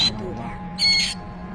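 A distressed parrot gives high-pitched screams: a short shrill burst at the start and a louder, longer squawk a moment later, over low background noise.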